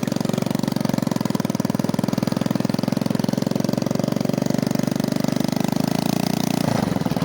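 A vintage 1980 Honda Mini Trail 70 motorcycle engine runs through its gears with a loud, close, buzzing drone that holds steady, then drops in pitch and eases off near the end.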